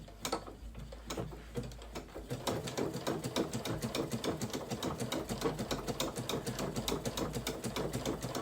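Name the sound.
sewing machine stitching with a circular stitching attachment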